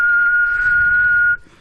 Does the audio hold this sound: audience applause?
no